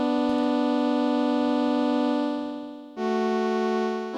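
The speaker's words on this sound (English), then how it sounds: "here I've got like a 2-note chord" A sustained two-note synth chord, bright and steady, holding for a few seconds before shifting to a new pair of notes that ring on.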